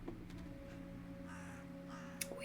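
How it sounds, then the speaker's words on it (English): A crow caws softly beneath a steady ambient drone in the Tiny Bunny horror point-and-click visual novel game, with no talking. "A nearby bird flapped its wings loudly."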